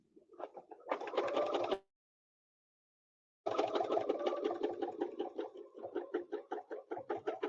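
A sewing machine stitches fabric petals in bursts of rapid, even clatter: a short run, a pause of silence, then a longer steady run that slows into separate stitches near the end.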